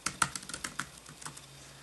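Typing on the chiclet-style keyboard of an ASUS X205 laptop: a quick, quiet run of light plastic key clicks, close and irregular, trailing off toward the end.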